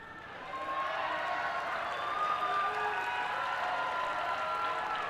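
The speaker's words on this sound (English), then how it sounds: "The parents are the ones clapping for that" Parents at a dual enrollment graduation ceremony applauding, a dense, steady wash of crowd clapping that swells in and holds at an even level.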